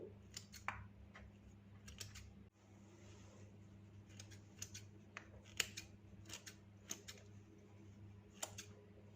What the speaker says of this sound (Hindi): इस तरह से किचन में रखी हुई कैंची के साथ कटिंग कर लेंगे।